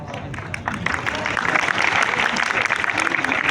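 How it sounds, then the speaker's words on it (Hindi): Students in a class clap together in a dense, steady patter that builds after the first half second and holds to the end, with voices mixed in underneath. "ये सिर्फ 530 तालियां बजा रहे हैं, बाकी के नहीं बजा रहे।"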